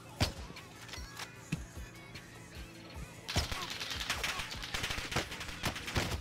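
Rapid gunfire from a video game, scattered single shots at first and then a dense, loud burst of continuous automatic fire, with no talking over it.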